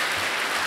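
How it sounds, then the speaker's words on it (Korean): Church congregation applauding in thanks for the ministry leaders, a brief steady wash of clapping from the crowd with no talk over it. "우리 감사의 박수로 이분들을 격려해 주시기 바랍니다"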